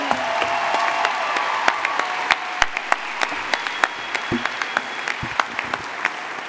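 An audience at a university commencement ceremony applauds, a steady wash of clapping with scattered louder individual claps, heard fairly close and without talk.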